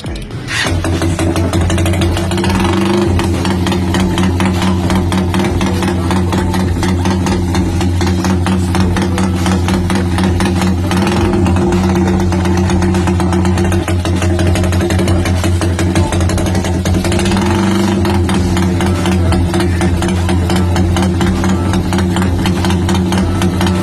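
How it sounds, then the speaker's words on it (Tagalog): An idling engine fitted with a remote-controlled rapid backfire idle rumble relay runs loud and close, a steady low rumble with a rapid chattering pulse throughout and faint voices in the background. "So tapos na nga nailagay ni Boss yung ating rapid backfire idle rumble relay"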